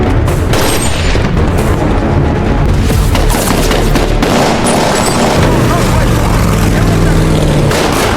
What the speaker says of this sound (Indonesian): Ro dan Den masih terus memburu para pelaku penyerangan mereka dengan saling membalas tembakan.